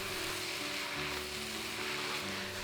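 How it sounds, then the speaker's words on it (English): A cabbage and ground beef stir fry, coated in sauce, hisses steadily in a hot pan while it is stirred. The sizzle is even and continuous, with no voices. "Stir around some more"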